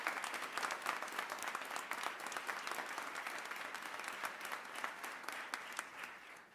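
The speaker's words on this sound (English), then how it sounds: "Please join in a round of applause for all of our MSEP partners and military spouses." Audience applause at a military spouse employment partnership ceremony, a steady, dense round of clapping from a large crowd that holds for several seconds before tapering off at the end.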